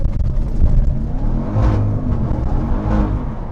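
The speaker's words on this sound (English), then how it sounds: "the TRX sounds so crazy when it shifts" A Ram TRX pickup truck's engine rumbles and revs, its pitch rising and dropping as it shifts gears. The sound is loud and close, with a deep whirring growl and no speech.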